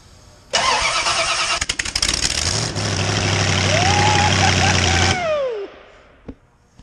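A turbocharged 358 Ford Foxbody V8 cranks and fires up loudly nearby, then settles into a steady rumbling idle with a rising whine before cutting off.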